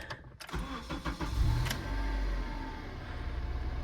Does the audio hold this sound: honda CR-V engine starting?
yes